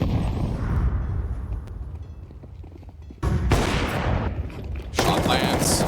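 M4 rifle gunfire in Counter-Strike 2 during a tournament match, with rapid bursts of shots and sharp blasts over game ambience and a commentator talking.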